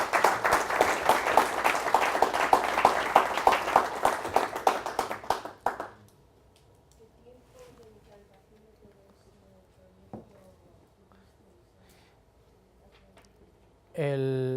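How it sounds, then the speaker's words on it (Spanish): An audience applauds after a presentation: dense, fairly loud clapping for about six seconds that stops abruptly, leaving a quiet room with a few faint knocks. "Aplausos."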